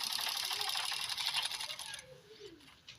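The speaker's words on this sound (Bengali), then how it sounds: "মাঝ বরাবর ফিতাটা এনে সেলাই করছি" A foot-pedal sewing machine stitching the strap onto a sack-material bag gives a fast, steady mechanical chatter for about two seconds, then slows and fades into quieter clicks and a few faint background voices.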